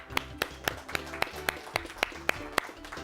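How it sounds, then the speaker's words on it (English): At a Science Bowl competition, a team gets applause heard as sharp, evenly spaced claps close to the microphone, about four per second, over a steady tonal background hum. "Let's have a nice round of applause for Capitol Heights."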